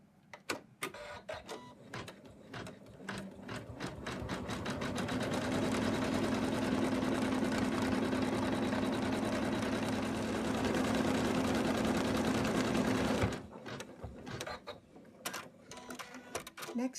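An embroidery machine stitches a snowman stocking in the hoop, starting with a few quick bursts, then a steady fast rattling hum for about eight seconds before stopping back into scattered short stitch runs.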